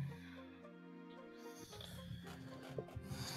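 A voice imitates faint sleeping breathing and snoring, a slow, low rasping drawn out over a few seconds, soft and close.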